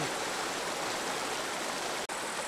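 A river rushes steadily over stones along a nature trail in the Kroppacher Schweiz, a loud, continuous broadband wash of flowing water with a single brief dropout near the end.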